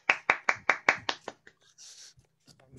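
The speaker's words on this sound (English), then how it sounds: "Let's all unmute and give Bob a round of applause" Online audience clapping after a poetry reading at a launch ceilidh: about seven sharp, evenly spaced hand claps close to the microphone, fading out and followed by near silence with faint rustles.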